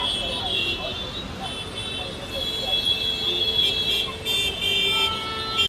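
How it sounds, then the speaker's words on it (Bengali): A road traffic jam beside a wedding venue with decorated pandals: a steady roadway rumble broken by several car horn toots, heard from above with a person talking over it. "আর রাস্তাতেও ভালোই জ্যাম আছে।"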